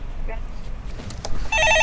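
A telephone ringing in a Korean stock-market call-in show studio, the tonal ring entering near the end and sounding loud and steady, with background noise and no speech over it.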